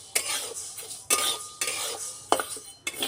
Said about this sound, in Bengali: এই যে খড়খড় করছে, এইভাবেই আওয়াজ হয়ে যাবে